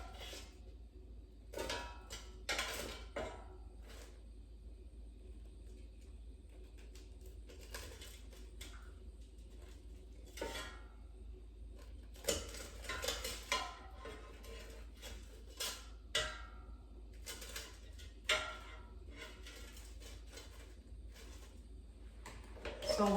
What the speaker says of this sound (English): let's flip it over with a spatula so it browns evenly on the other side